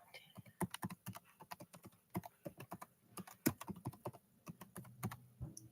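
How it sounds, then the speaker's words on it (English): Quiet, irregular clicking of fingers typing on a computer keyboard, keys tapping in quick uneven runs with brief pauses. "typing my email."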